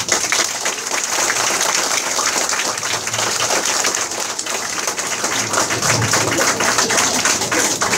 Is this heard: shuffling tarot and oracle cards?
no